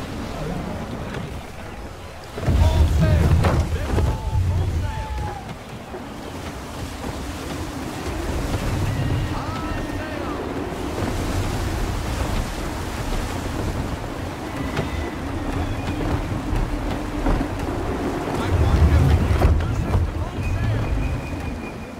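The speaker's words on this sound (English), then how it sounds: "Wind looks to be shifting. Stay alert, Connor. Gusty winds can be difficult to manage." Gusty wind and breaking waves around a sailing ship at sea in the Assassin's Creed 3 video game, a continuous roaring wash with periodic louder surges of water and wind buffeting, with a voice speaking at times.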